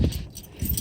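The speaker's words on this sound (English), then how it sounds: "But if I have my keys," Keys jangle close by during a construction material inspection, two quick metallic rattles separated by a short pause.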